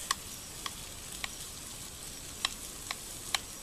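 Burger patties fry at a rough campsite with a faint, steady sizzle, broken by occasional sharp ticks and pops, and no talking.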